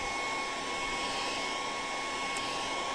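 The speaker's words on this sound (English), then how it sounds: "But I'll get my hairdryer out and just give that a good hit." Hairdryer blowing steadily on wet salt impasto paint, a loud, continuous close-up rush of air with no pauses.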